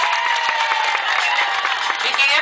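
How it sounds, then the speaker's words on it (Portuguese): Applause and cheering from an excited crowd at an informal runway show, steady dense clapping with scattered shouts filling the whole stretch at close range. "queria pedir uma salva de palmas para a Ivonete"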